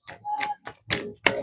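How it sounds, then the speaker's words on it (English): A deck of deity oracle cards being shuffled, five short papery riffling bursts in quick succession, close and fairly loud. "So I will shuffle them a different way."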